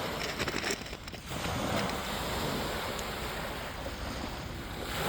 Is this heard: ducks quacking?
no